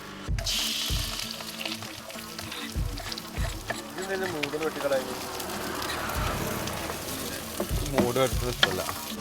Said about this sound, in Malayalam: ആദ്യം പപ്പടം പൊരിക്കണം നല്ല ഇറങ്ങി.